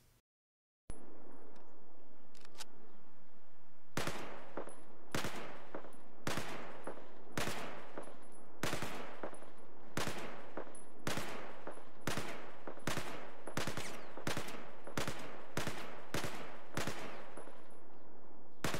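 Rapid gunfire in the video game Battlefield 4, a long series of sharp, loud shots fired in uneven bursts and single cracks over a steady background hum, with no talk.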